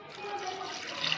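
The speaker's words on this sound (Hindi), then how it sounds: "फिर इसमें अब डाल देंगे पानी" Water poured into a pot of vegetable biryani during cooking, a short close splashing pour lasting about a second.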